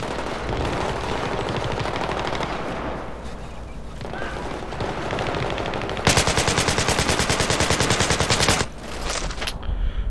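Heavy automatic gunfire in the video game Battlefield 3 multiplayer, a dense, sustained stream of rapid shots that grows louder and more rhythmic partway through, with battle noise underneath.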